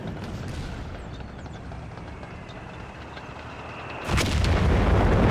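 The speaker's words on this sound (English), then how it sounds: "Here comes the howitzer. It's shooting at the center at these AT guns." Howitzer artillery fire in the Company of Heroes 3 strategy game: a low rumbling battlefield bed with a loud, sharp blast near the end that stays heavy after the impact.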